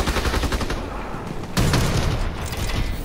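Rapid, continuous automatic gunfire from a weapon in a Call of Duty: WWII Nazi zombies match, a dense rattling burst of shots that grows heavier and louder partway through, close and loud with no talking.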